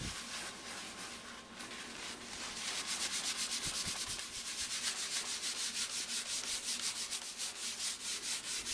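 Steady back-and-forth rubbing of a cloth or pad across a tile floor, wiping excess paint off a repaired crack; close, continuous and growing more rhythmic, with no voices.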